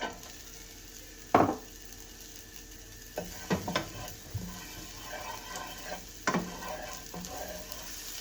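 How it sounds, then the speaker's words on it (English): Chopped onions sizzle in oil in a home kitchen pan, a steady frying hiss broken by several sharp stirring and utensil scrapes, close and without speech. "Start by frying the onion."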